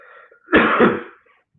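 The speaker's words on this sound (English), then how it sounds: "apologies for the coughing" A single harsh cough bursts out close by, short and loud, against near silence.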